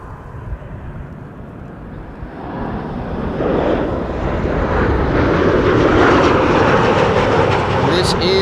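An airliner arriving at Amsterdam Schiphol Airport, a jet roar building from quiet to loud and close as it passes, with faint talk early on.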